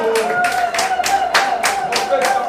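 Wedding guests clapping together for the couple in a rhythmic, fairly loud pattern of roughly a dozen beats, with a voice talking over the claps throughout.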